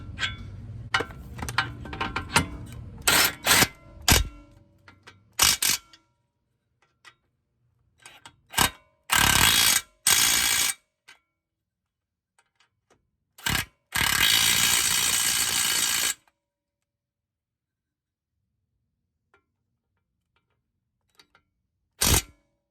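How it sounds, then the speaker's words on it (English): Ratchet tightening a 19 mm castle nut on a ball joint of a 2004 Toyota Sienna, heard as a few separate bursts of rapid clicking, the longest running about three seconds, with quiet gaps and no talk. "finish tightening up your castle nut"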